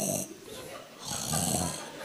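A voice imitates his wife snoring with two rough, breathy snores, close and moderately loud, the second longer and stronger.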